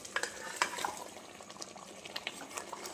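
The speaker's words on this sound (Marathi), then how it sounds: "आता आपले हे सगळे अंडे आपण याच्यामध्ये टाकून घेऊया" Eggs are tipped into bubbling egg biryani gravy with oil risen on top, giving soft clinks and splashes, then gentle stirring over a steady low sizzle and simmer, close and fairly quiet with no talking.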